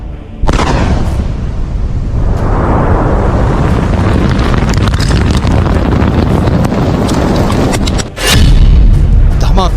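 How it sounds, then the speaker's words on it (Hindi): Missile blasts in Iran: a loud, sustained roaring rumble of explosions runs almost unbroken, with a brief dip before a final heavy boom. "धमाका ईरान में किया गया,"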